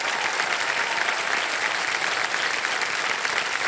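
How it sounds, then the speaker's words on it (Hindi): Steady, dense audience applause fills the studio of a TV quiz show, loud and continuous throughout with no pauses and no talk over it. "तालियां बजते रहे पूजा जी के लिए।"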